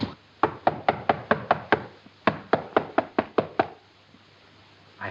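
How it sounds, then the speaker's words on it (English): Knocking on a door late at night in a 1930s setting: two bursts of about seven sharp, evenly spaced raps each, close and fairly loud, with a short pause between the bursts and quiet afterward. "I think I ought to knock louder."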